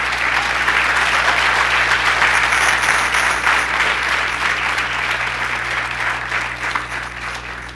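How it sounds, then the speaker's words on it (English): A large audience gives GBG managers sustained, steady applause at a Google Business Group welcome event, a dense wash of clapping over a low hum that slowly fades toward the end. "Huge round of applause."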